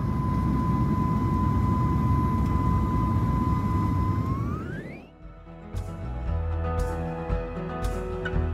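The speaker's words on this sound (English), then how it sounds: "we fly over the airport for a good 20 seconds after liftoff" An airliner climbs after liftoff from Dubai airport, its engines roaring loudly in a steady cabin drone with a rising whine that fades away, followed by quieter rumbling and clunks.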